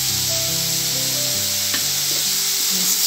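Vegetable spring roll filling, seasoned with salt, green chilli and red chilli paste, sizzles steadily in a hot pan while being stirred. The frying hiss is loud and continuous, with soft scraping from the stirring.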